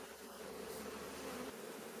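Honey bees hum steadily over a mixed brood frame with freshly vacated cells, a soft continuous drone that stays low and even throughout with no voices.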